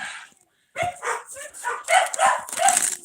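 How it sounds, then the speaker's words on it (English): Several excited dogs bark in quick, uneven bursts close by, their yips and barks overlapping and growing busier after a brief quiet opening. "All right, I got the crazy dogs going on"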